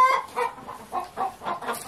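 A Toulouse goose gives a rapid run of short, nasal honking calls, about eight evenly spaced bursts, close and loud with no one talking.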